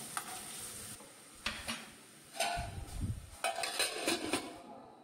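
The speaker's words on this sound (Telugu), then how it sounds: "ఆనియన్స్ పచ్చిమిర్చి ఆయిల్లో కలిసేటట్టు బాగా కదుపుకుంటూ మూత పెట్టి బాగా మగ్గనివ్వండి" Onions and green chillies being stirred in hot oil in a pan for Godavari-style prawn pulao: a soft bed of sizzling under repeated scraping and clinking strokes of a spoon against the pan, with a heavier scrape near the middle.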